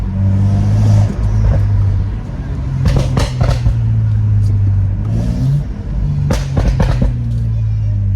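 BMW engine in sport mode revving while driving, with rising and falling throttle surges and several sharp exhaust pops and bangs, close and loud, with speech over it.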